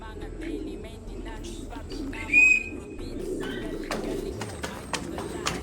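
Pigeons heard outdoors at a rooftop loft, with soft cooing and a brief louder call rising over steady background noise and scattered clicks, mostly without talk.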